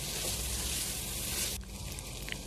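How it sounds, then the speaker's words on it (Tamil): One cup of water pouring steadily into a pan of masala-fried chicken, a bright continuous splash that stops abruptly after about a second and a half, leaving a quiet sizzle. "1 கப் தண்ணி ஊற்றிக்கலாம்."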